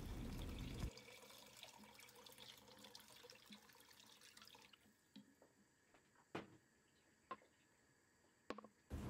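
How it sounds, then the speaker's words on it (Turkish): Cold water poured into a soup pot for tomato and pepper tarhana soup with minced meat rushes loudly for about a second and then fades to quiet drips and small splashes. "Üzerine soğuk su ilavesi yapıyorum."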